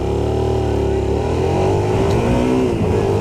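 A Suzuki SV650 S motorcycle pulls hard under acceleration, its engine note rising in pitch over a few seconds, loud and close, with a steady roar and no voices.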